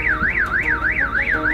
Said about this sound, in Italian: è l'allarme della mia macchina?